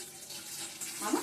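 Water tipped out of a basin over sprouted gram during washing makes a continuous close splash and trickle, swelling louder near the end.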